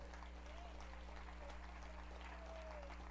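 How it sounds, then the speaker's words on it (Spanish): A church congregation applauds during a Sunday service, a steady wash of many hands clapping at once, continuous and moderately distant over a low hum, with faint voices mixed in. "Dale un fuerte aplauso al que vive, aleluya."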